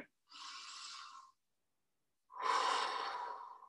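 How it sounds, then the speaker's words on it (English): Two long, airy breaths during a yoga strength and flexibility session: a soft exhale followed after a pause by a louder, deeper breath, both close and alone. "Take a deep breath in."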